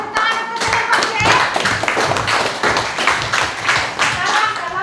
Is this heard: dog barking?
no